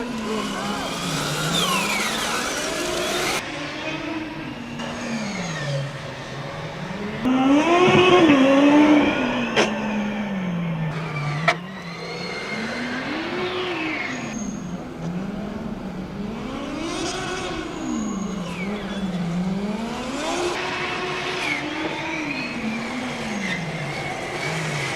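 A Formula Student combustion race car runs an autocross lap at the Formula Student Germany event, its engine rising and falling in pitch as it accelerates and brakes through the course, loud and continuous with an announcer talking over it.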